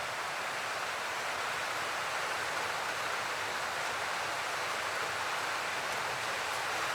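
Rain falling steadily on a tin roof, a dense, even hiss of drops that stays constant and fairly soft, with no voices.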